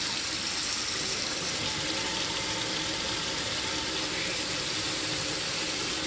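Lukewarm tap water runs steadily from a faucet while a container is rinsed, a constant broadband splashing rush that fills the whole clip with no voices over it.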